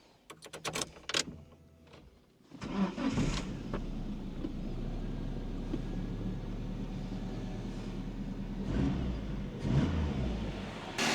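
A few clicks and a brief crank give way to a car engine with newly replaced motor mounts catching and settling into a steady, low rumbling idle that swells slightly near the end.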